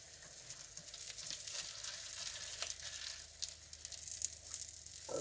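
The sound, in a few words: pancake batter cooking in a pan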